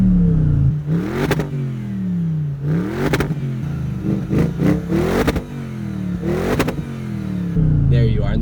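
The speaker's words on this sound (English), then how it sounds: "I know where to get it to make the pop sound" A Bentley Continental GT V8 S, parked, is revved repeatedly from near by, each rise around 5,000 rpm ending in a snap of exhaust pops and crackles between pauses.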